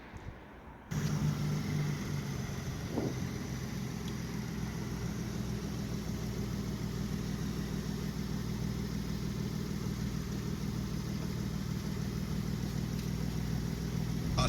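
A Kia car engine cranks and catches after a power steering repair, then settles into a steady, even idle that runs on alone, close and moderately loud.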